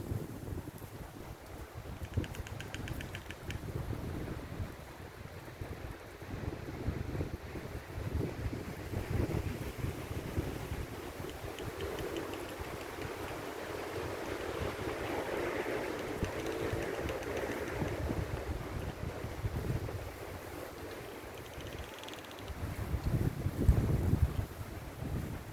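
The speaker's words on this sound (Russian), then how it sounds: "хочу вам дать послушать звуки леса, когда ветер раскачивает макушки сосен, деревьев" Storm wind sweeps through a pine forest and sways the treetops, giving a broad, surging roar like distant surf. It rises and falls in slow gusts at moderate loudness throughout, with no one speaking.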